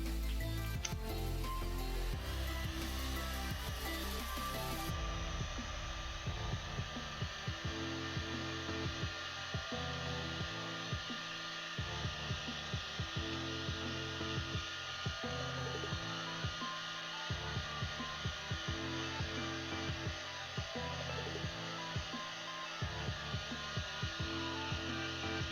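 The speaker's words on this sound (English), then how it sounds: "we're gonna use a heat gun" A heat gun blows continuously at close range, a loud steady whirring hiss with a rumbling low hum and small fluctuations, sustained throughout with no talking.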